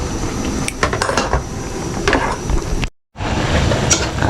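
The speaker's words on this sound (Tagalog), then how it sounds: "Takpan ko muna bago ko haluin." Metal cookware clanks and scrapes as a lid is set on a cooking pot of vegetables, several sharp clinks over steady kitchen noise, close and loud, with a brief dropout near the end.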